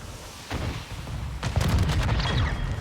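A grenade goes off in the Call of Duty Modern Warfare II game, two booming blasts with a rumbling low-end tail, the second heavier and sustained, over steady background game noise.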